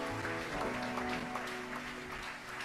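A church congregation at a healing service in Bordeaux breaks into dense, sustained applause that fills the room, mixed with tonal music or voices underneath.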